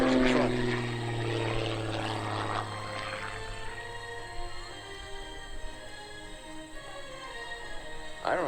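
Aerobatic propeller airplane from the Iron Eagle team performing at the 2013 Lehigh Valley Airshow, its engine droning at a distance and shifting in pitch as it maneuvers, mixed with crowd ambience.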